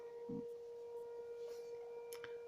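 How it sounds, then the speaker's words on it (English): A faint, steady siren tone holds in the background, with a few brief soft noises over it and no talking. "Oh no, the siren."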